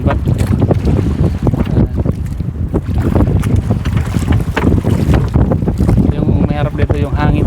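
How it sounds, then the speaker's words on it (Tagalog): Strong wind at sea buffets a fishing boat, a loud, continuous roar of gusts and microphone wind noise mixed with rushing water and engine rumble, steady throughout without letting up. "Yung may harap dito yung hangin talaga."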